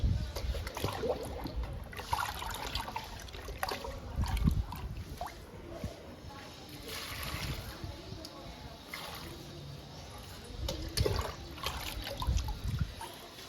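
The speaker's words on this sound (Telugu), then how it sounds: "ఈ నాలుగు మొక్కలకి ఇచ్చేద్దాము లిక్విడ్ని" Liquid fertilizer poured onto four potted indoor plants, a soft trickling and splashing in uneven spurts, quiet and close, under a person talking.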